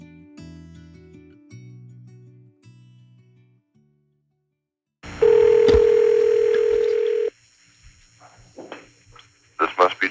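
A telephone line connecting for a call, with a steady dial tone and beeps starting midway, preceded by faint tonal sounds and followed by short clicks and handling noises.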